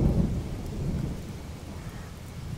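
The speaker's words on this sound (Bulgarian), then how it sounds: "Започва да вали." Rain beginning to fall on a summer morning gives a soft continuous hiss with a low rumbling wash, steady and without voices.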